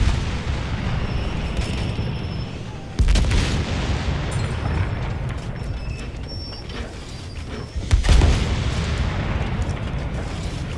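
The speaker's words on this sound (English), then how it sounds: "it appears our mortar's doing pretty good work" Battlefield 1 mortar rounds detonating, two heavy booms standing out from a constant din of battlefield gunfire and rumble, near and loud.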